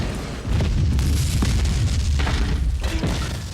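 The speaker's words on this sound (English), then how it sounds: "there's an enormous explosion." An enormous building explosion staged for a firefighting film erupts as a deep, sustained boom with rumbling debris, loud and close, swelling after a brief quiet start and rolling on for several seconds without speech.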